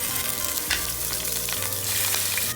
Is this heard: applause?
no